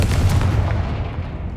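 Confringo fire spell cast in Hogwarts Legacy, a single booming blast that bursts loud and then rumbles away into a fading tail, heard alone.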